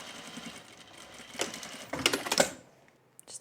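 A sewing machine stitches the waistband of an Astell skirt in a short burst, its motor whirring up and then stopping, with a few sharp mechanical clicks near the end before falling quiet.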